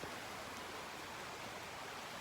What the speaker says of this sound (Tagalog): May ilog pa dito, may ilog pa.